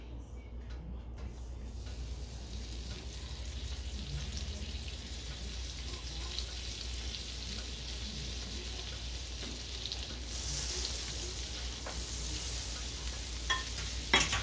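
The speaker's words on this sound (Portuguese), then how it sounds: "agora eu vou colocar uma colher de manteiga." A spoonful of butter melts and sizzles in a hot electric pan, a soft, steady crackle with occasional light clicks and a brighter hiss swelling near the end.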